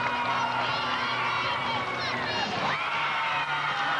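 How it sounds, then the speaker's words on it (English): Crowd noise from a women's gymnastics championship arena, a steady roar of cheering and whoops with scattered applause across the whole stretch, with a commentator's voice mixed in. "The crowd applauding another event."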